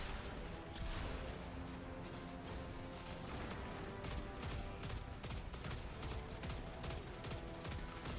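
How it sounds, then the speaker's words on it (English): Rifle fire in a video game, with the gun's two-round bursts cracking rapidly and loudly over a dense, continuous barrage of gunfire and explosions. "It's very sniper rifle. You know, it feels like a sniper. The 2-round burst hits hard."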